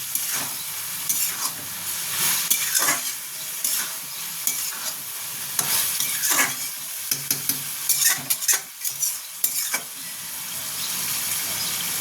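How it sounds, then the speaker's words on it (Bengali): Snake gourd being stir-fried in a pan, with a steady sizzle of frying under repeated scraping and stirring strokes of a spatula, the moisture cooking off; close and fairly loud, with no talking. "এবার এটাকে একটু ভাজা ভাজা করে নেব"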